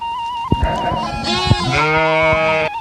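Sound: sheep and lambs bleating

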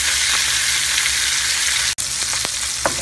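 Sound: cooking oil crackling in a pan

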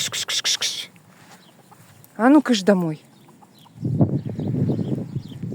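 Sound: chickens clucking

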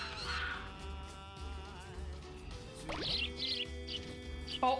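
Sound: swans in the video game Katamari Damacy

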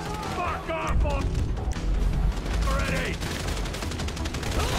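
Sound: sniper gunfire in Grand Theft Auto V video game

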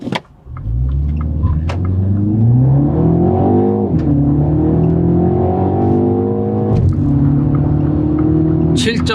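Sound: Mini Cooper S accelerating hard in go-kart mode

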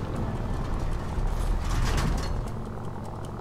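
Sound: aircraft engine running in Stranded Deep video game

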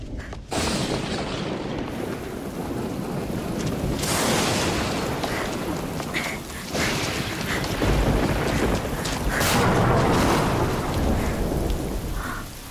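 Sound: thunder before rain

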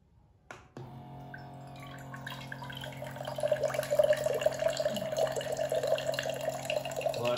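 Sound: water flowing from a mineral water can dispenser into a glass

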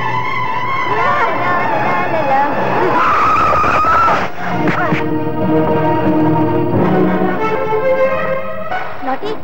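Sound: car skidding and hitting someone in a film

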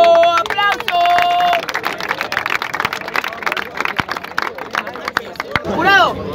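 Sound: audience applause at a rap battle

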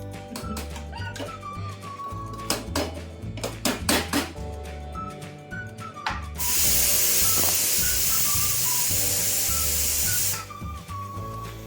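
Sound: misal curry boiling in a pot

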